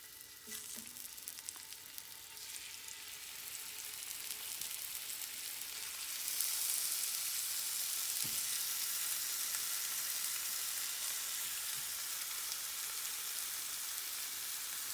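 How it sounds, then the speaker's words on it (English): Short ribs sear in hot olive oil in a cast iron skillet, giving a steady, fairly quiet sizzle and crackle that grows a little louder partway through, with no voices. "put some olive oil in the bottom of that cast iron skillet to get that good and hot, so we can put a nice little sear on them"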